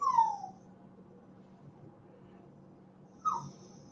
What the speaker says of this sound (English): I got a dog whining. She wants to get out of the room.